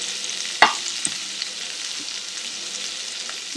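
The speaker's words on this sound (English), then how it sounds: "I'm just gonna let these fry and toss around the others" Prawns for a vindaloo fry in a pan as they are stirred and tossed, a steady close sizzle with a sharp clatter early on and a few softer knocks after, no voices.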